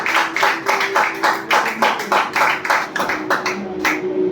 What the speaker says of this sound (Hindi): गौतम बाली सर के लिए जोरदार ताली होनी चाहिए